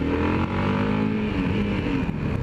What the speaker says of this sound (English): See, there's that gear changing. See, it didn't quite go in then.